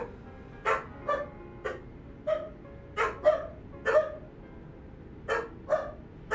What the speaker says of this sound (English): Not even the doggos are telling you to calm it.